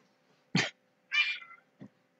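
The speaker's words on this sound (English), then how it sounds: "Yes, that would be our cat." A pet cat gives a short meow indoors, followed by a second breathy call and a faint low chirp, each brief and separated by quiet pauses, fairly close by.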